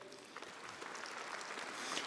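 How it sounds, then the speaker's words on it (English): A brief burst of applause from a conference keynote audience, steady and moderately faint, lasting just a couple of seconds. "So if we give Darren applause, that'd be fantastic"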